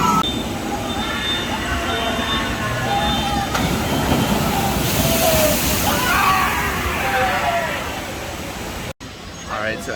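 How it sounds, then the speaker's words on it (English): A log flume ride at Dollywood's Daredevil Falls splashes through water in a loud, continuous rushing wash, with scattered voices and shrieks from riders over the roar. "This is a log flume ride."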